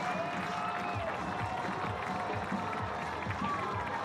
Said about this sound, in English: a sweltering home crowd erupts